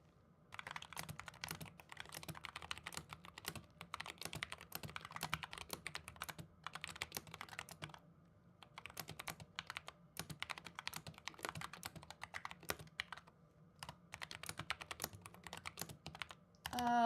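Typing on a computer keyboard with a microphone placed close, quick bursts of crisp key clicks broken by short pauses, fairly quiet overall with no talking.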